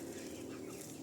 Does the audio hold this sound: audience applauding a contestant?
no